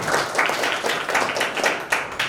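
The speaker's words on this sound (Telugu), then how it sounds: "Please give round of applause for sir." An audience at a school alumni get-together claps steadily, a dense run of many hands applauding at moderate loudness with no talk over it.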